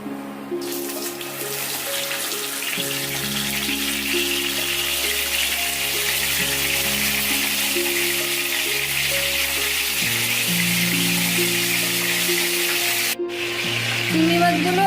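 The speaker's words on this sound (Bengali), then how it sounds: "তেল গরম হয়ে এসছে, এরপর আমি এর মধ্যে চিংড়ি মাছগুলো দিয়ে দিচ্ছি।" Prawns frying in hot mustard oil give a loud, steady, close sizzle that holds for the whole stretch, with soft tonal background music underneath.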